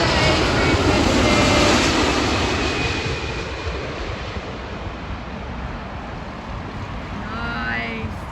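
Airbus A350 airliner at Heathrow Airport, a loud broad jet roar that is strongest at the start, then slowly fades and thins out as the aircraft moves away, leaving a steady wash of engine rumble.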